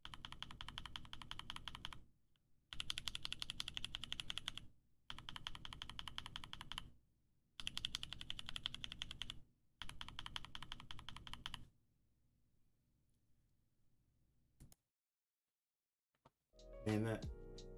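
Typing bursts on a Keychron Q60 keyboard fitted with Tech C Ice Candy switches, four dense runs of rapid clacky keystrokes separated by short pauses, close and clear, then quiet with a brief thump at the end.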